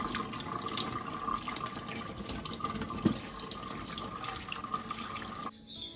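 Jersey Royal new potatoes are being scrubbed clean under a running kitchen tap, with water splashing steadily into a sink, a brief knock midway, and the flow stopping near the end. Moderately close, with no voice.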